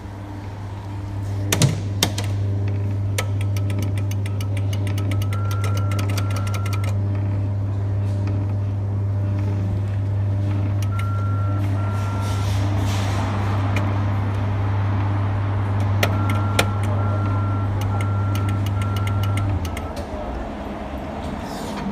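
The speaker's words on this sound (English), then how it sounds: "the standard Thomas the Tank Engine Kiddie ride by Jolly Roger" A worn Jolly Roger standard Thomas the Tank Engine kiddie ride at a Sainsbury's store runs with a steady low motor hum for most of the stretch, with clicks and a faint repeating jingle tone on top, then stops near the end.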